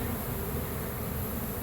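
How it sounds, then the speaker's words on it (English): Honeybees swarm around a hive in a tree in Orlando, Florida, their buzz forming a thick, even, close drone with no voices. "you can see these bees are kind of coming down out of the tree and orienting"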